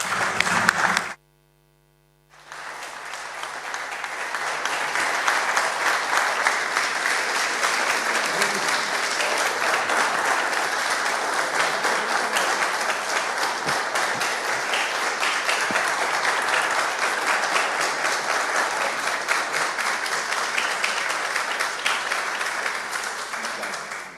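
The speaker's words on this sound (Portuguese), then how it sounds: "Acho que as palmas dizem tudo." An audience at a legal forum in Lisbon breaks into sustained applause after a speech, a dense, steady wash of clapping that begins after a brief silence and continues for over twenty seconds.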